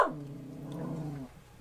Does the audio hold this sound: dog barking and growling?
yes